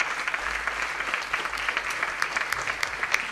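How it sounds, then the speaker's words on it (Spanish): An audience applauds a violin and music teacher at a folk music concert by a Santiago del Estero group. Continuous, fairly distant clapping fills the whole moment, with a low hum underneath and no talking. "fuerte el aplauso para él."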